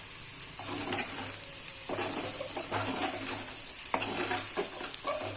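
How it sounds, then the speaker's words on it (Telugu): A spoon stirs spiced potato curry pieces in a sizzling pan, with scraping strokes against the metal coming in bursts over a steady frying hiss. Nobody speaks. "కారం అంతా మంచిగా మిక్స్ అయ్యేలాగా ఆలుగడ్డ ముక్కలు కూడా చిరిగిపోకుండా మంచిగా కలుపుకోవాలి"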